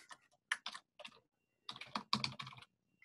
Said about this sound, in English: I'm gonna stop trying to hit all the wrong keys.